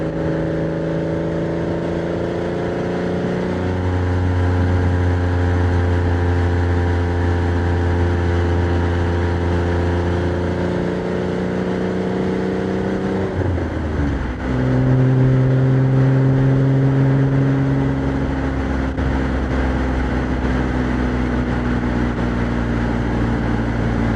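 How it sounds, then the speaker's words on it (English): A Porsche 987 Boxster's engine drones steadily on an open road, holding loud even tones that climb gradually, then drop and settle after a gear change, with no talking. "the noise that you get through this engine, it's just fantastic"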